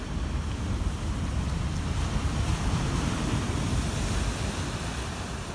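Ocean waves wash continuously onto a beach, a steady full roar of surf with wind buffeting the microphone, no voices.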